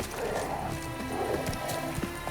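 Horse hooves clip-clopping in the video game Witcher 3, a steady trot of soft thuds under a continuous background of game ambience and music.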